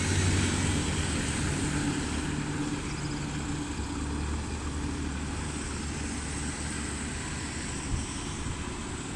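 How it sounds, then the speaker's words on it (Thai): A steady, heavy diesel locomotive engine drone rumbles continuously at a moderate distance as it accelerates, a low mechanical roar with broadband noise, no voices. "เร่งเครื่องไปแล้วนะ"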